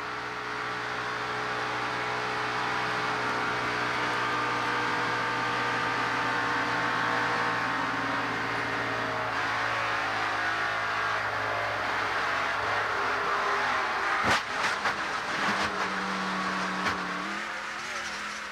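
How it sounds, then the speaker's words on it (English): A stock car at the 1989 Daytona 500 roars with a loud, sustained onboard engine drone, then a burst of sharp impacts near the end as car number nine crashes into the wall. "Let's hear what it sounded like from car number nine, Jody Ridley, as he crashed into the wall."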